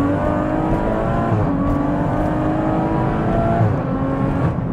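An 880 bhp BMW M140i with a limited-slip differential accelerates hard at full throttle, its engine a loud, sustained, rising roar heard from inside the car, with steady harmonic drone and no talk.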